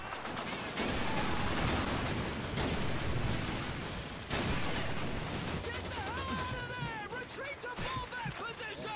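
Machine gun fire from the 2005 World War II shooter Call of Duty 2 rattles in dense, rapid bursts almost without pause, mixed with other battlefield shots and a voice speaking over the din.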